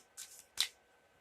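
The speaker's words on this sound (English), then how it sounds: "And a quick shuffle" Two quick, soft riffles of a tarot deck being shuffled up close, the second sharper, then near silence.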